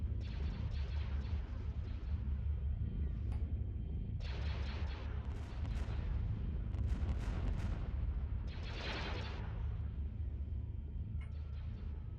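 Steady low rumbling barrage of laser cannon fire in a Star Wars Empire at War video game battle, with bursts of brighter blasts and zaps, continuous and loud throughout, no talking.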